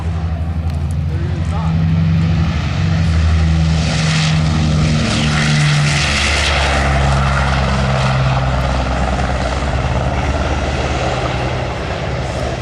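Doc, a WW2 bomber, flies at an air museum WW2 weekend, its propeller engines giving a loud, sustained droning roar that holds steady throughout, close and dominant.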